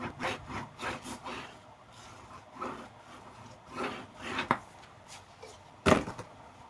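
A paper piece burnished flat onto chipboard for a Valentine box, heard as close rhythmic rubbing strokes in bursts, with a couple of sharper taps and no talking.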